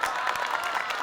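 A brief burst of an audience applauding in a period drama, dense rapid clapping heard throughout at an even level.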